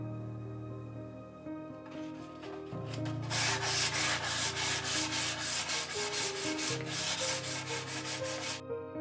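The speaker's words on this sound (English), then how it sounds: "I'll give it a quick sanding with fine sandpaper" Fine sandpaper rubs back and forth on wood in quick, even strokes to smooth sharp edges and grain, a rhythmic scratchy swish over soft background music.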